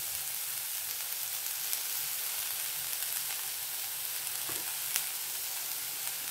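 Chilli, coriander, garam masala and turmeric powders sautéing in a pan, a continuous close sizzle and fry hiss with an occasional faint stir, no voices.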